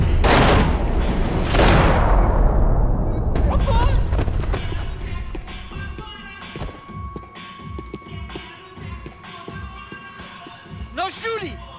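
Gunfire and heavy booms in the video game Max Payne 3: loud blasts open the clip, then a dense stretch of rapid shots and impacts with game effects. Voices talk over the shooting throughout.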